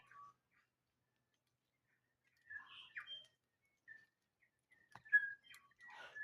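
Faint, scattered bird calls and whistled chirps in quiet New Zealand bush, a few short phrases separated by silence, then a brief cluster of notes.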